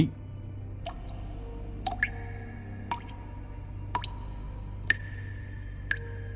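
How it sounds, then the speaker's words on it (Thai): Rhythmic water drops fall from somewhere above onto leaves, each drip a distinct plink at roughly one-second intervals over a low steady background hum, with no voices. "มันเป็นเสียงน้ำหยด โดยที่หยดเป็นจังหวะ เหมือนกับหยดลงมาจากที่ไหนสักแห่ง ลงมากระทบกับใบไม้"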